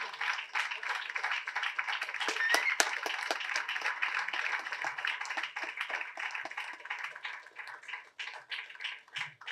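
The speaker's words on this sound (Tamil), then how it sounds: "உங்கள் பெருத்த கரகோஷத்துடன்." An audience claps throughout an award ceremony where actor Karthi presents a one-lakh-rupee cheque to a person honoured for social service. The dense, steady applause swells slightly in the middle and thins toward the end.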